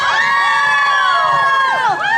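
A crowd at an outdoor concert and energy-saving promotion event in Taichung's Qingshui cheers for a singer, with high shrill shouts and whistle-like voices rising and falling loudly and close.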